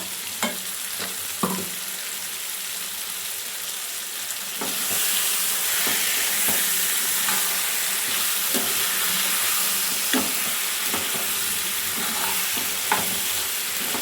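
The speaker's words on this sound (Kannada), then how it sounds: "ಫ್ರೈ ಮಾಡಿ ರುಬ್ಬಿಟ್ಕೊಂಡಿದ್ದೆವಲ್ಲ ಆ ಮಸಾಲೆನ ಇವಾಗ ಆ್ಯಡ್ ಮಾಡ್ಕೊಳ್ಳೋಣ" Ground fried masala paste being added to chicken masala and stirred in a pan, a steady frying sizzle that grows fuller midway, broken by repeated scraping stirs and occasional clinks of the spoon.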